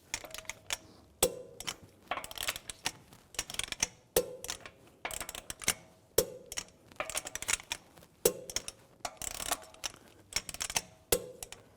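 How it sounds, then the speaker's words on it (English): Torque wrench tightening lug bolts on a 2004–2010 BMW X3 front wheel, set to 110 foot-pounds in a cross pattern: repeated bursts of close mechanical clicking and ratcheting, with short pauses between bolts. "Now I'm going to torque these lug bolts to 110 foot-pounds in a cross pattern to tighten the wheel down evenly."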